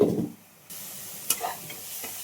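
Green chillies and onions frying in hot oil, a steady close sizzle after a short thump and pause, with a brief clatter of stirring partway through.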